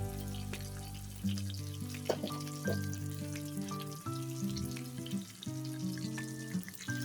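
Stuffed eggplant slices (begun bhaji) fry in a pan with a steady soft sizzle, partly covered by louder melodic music that plays throughout.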